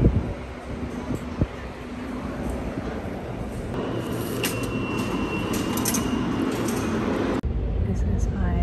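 A New York City subway train rumbles steadily in the underground, with metallic high-pitched squeals rising in the middle and a voice heard faintly underneath.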